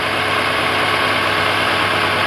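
A first-generation Chevrolet Astro or GMC Safari van engine idles at a steady, loud, close drone. The rumble is continuous and unchanging, and no voices are heard.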